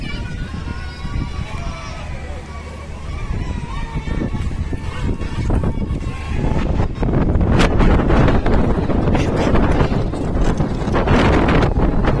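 Strong cyclone wind roars and buffets the microphone in Mumbai rain, building to a louder, harsher rush in the second half, with a voice speaking over it.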